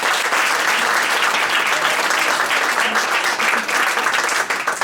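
Loud, sustained applause from a forum audience greets a keynote speaker, dense and even throughout with many hands clapping together and no speech over it.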